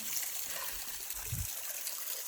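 A flowing mountain stream keeps up a soft, steady wash of trickling water, faint and continuous, with a brief low thump midway and no speech.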